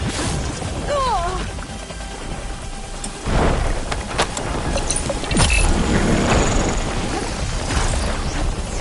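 Thunderstorm in the video game Horizon Forbidden West: steady rain hiss with rolling thunder cracks and booms building partway through, a voice briefly speaking early on over the storm.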